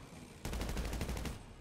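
Video game gunfire, a rapid burst of about ten close, loud automatic shots in quick succession lasting roughly a second, then cutting off.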